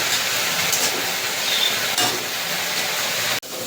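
Coconut paste fries in oil in a pan, a steady bright sizzle that runs loud and close throughout while it is stirred, with a soft clink near the end.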